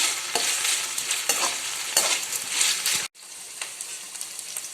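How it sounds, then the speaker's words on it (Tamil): Ivy gourd sautés in a pan, a busy crackling sizzle broken by stirring scrapes, briefly cut off near the end before the frying resumes more softly. "கோவக்காய் நல்லா வதங்கினாதான் சீக்கிரமாக வேகும்."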